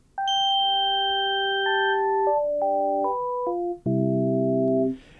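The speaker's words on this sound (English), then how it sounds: "that is a sine wave" Clean, pure synth tones from a Novation Peak or Summit, stepping through bright held notes that overlap and decay, ending in a lower cluster, alone with no talk.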